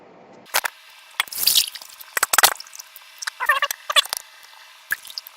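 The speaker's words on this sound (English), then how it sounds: "So I'm going to pour it into this glass container." Liquid from a benzoic acid synthesis is poured into a glass container in short, splashy bursts and trickles with drips between them, close by and with no talking.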